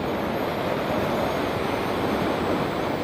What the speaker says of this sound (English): How's that wind?